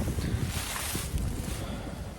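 Strong wind blowing outdoors at an archery range, a loud, continuous roar of gusts buffeting the microphone with rumbling low buffets and no speech over it.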